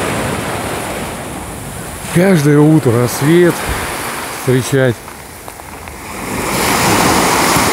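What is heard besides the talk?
sea waves on the Azov Sea shore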